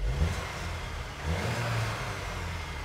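Muffled engine hum inside a Skoda Kodiaq RS with a 245 PS 2.0 TSI, rising slightly as the throttle is pressed, low and steady with a soft whir.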